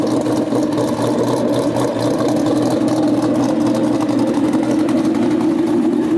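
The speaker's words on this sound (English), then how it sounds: "That cam is sounding pretty sick" Loud, close idle of a cammed Ford Mustang 5.0 with a Boss 302 intake manifold, a steady, lumpy low rumble that continues without pause.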